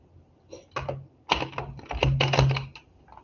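Tarot cards are shuffled in quick papery riffles and taps, close and fairly crisp, coming in short clustered bursts with gaps between them.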